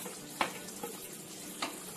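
Capsicum and onion dropped into mushroom gravy in a kadhai, giving a soft sizzle and bubble with a few sharp stirring clinks and taps, close by and without voices.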